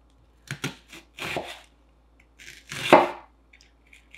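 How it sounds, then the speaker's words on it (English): A kitchen knife slices food into small pieces for guacamole on a cutting board, giving about eight crisp, close chopping strikes in an uneven rhythm, with quiet gaps between the cuts. "I'm just gonna cut it in like little, so slices first and then down the middle again"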